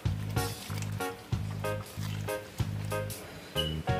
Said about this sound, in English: I'll give it a good stir.